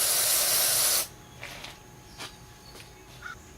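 An aerosol can sprays brake cleaner onto the rear brake caliper of a 1999–2003 Ford F350 Super Duty dually with the 7.3 Powerstroke, giving a loud, close hiss for about a second, then a few faint clinks and taps.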